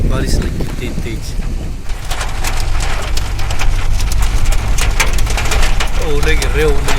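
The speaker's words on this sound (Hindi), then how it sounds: "बारिश लगी तेज तेज" Heavy rain pours steadily and loud in a village setting, with hail also falling, while someone speaks over the downpour throughout.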